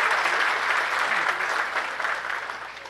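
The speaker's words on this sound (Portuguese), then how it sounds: "pedir uma salva de palmas à Câmara Municipal" Applause for the municipal council of Mouros at a public gathering, a steady wash of clapping from a crowd that gradually fades over about three seconds.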